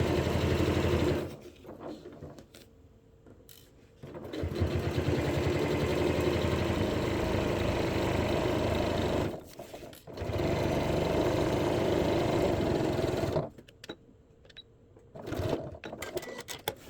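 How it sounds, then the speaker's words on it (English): A sewing machine stitches a pocket on a beach bag in two long steady runs of rapid needle chatter, close and loud, broken by short pauses and a brief final burst. "so now we're going to sew up the first pocket."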